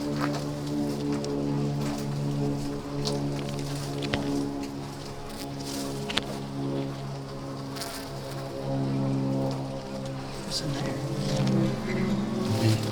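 Bees on a farm buzz in a steady, dense drone that lasts throughout, with faint rustling and scattered background noises mixed in.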